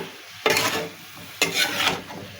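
Chunks of bottle gourd frying with salt, turmeric and chili, stirred in two quick bursts that bring sharp scraping and a bright sizzle over a quieter background hiss.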